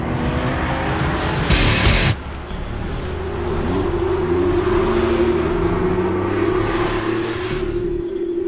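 Porsche 911 GT3 RS flat-six engine driving, a loud sustained engine drone with pitch climbing and shifting through gears, close and continuous, with a brief burst of wind noise early on.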